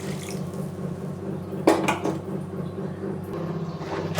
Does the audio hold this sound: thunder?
no